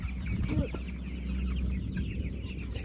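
Broiler chickens cluck softly in chicken tractors set on an open hay field, a low steady murmur of fowl with a few brief louder calls early on, heard alone without talk.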